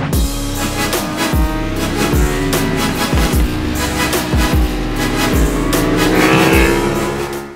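A Ducati Streetfighter V4 S with a full Akrapovic racing exhaust and slick tyres laps the Misano circuit, its V4 engine roaring loud and close, rising through repeated sharp revs and quick gear shifts that keep the pitch climbing.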